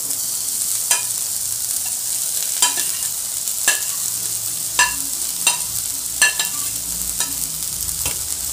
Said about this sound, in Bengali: মিলিয়ে একসাথে সব নাড়বো।